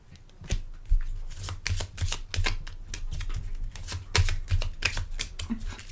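A deck of tarot cards is shuffled by hand and then cut, giving dense, rapid riffling and flapping close by, with a few soft taps between bursts and no talk.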